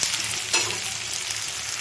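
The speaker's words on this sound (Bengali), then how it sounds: "এখানে আমার পেঁয়াজটা ভাজা হয়ে গেছে" Onions frying in a pan for biryani produce a steady, close hiss of sizzling oil with one brief louder crackle near the start and no voices.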